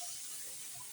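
Water runs steadily into a pan of fish being cooked down with aubergine, a continuous close hiss and trickle with no voices.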